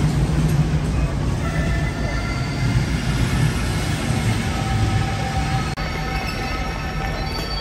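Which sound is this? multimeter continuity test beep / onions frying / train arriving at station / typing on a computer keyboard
train arriving at station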